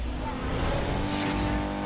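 A BMW engine in Need for Speed Underground 2, a steady loud whining drone of a car at speed, heard continuously for a couple of seconds.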